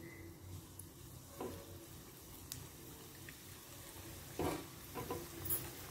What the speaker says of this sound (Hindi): ऑयल हमने गर्म करने के लिए रख दिया है और गर्म भी हो गया है, तो हम इसमें कचौड़ियाँ डाल देंगे एक एक कर से।